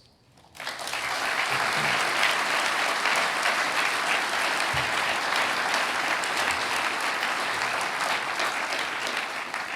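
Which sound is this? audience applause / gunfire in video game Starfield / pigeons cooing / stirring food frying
audience applause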